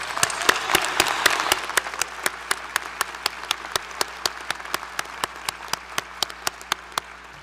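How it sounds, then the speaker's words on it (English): Applause for graduates at a graduate school commencement: a broad crowd wash at first that thins out, leaving a few sharp, evenly spaced claps ringing in a large hall. "Please join me in a well-deserved round of applause for all of our outstanding graduates"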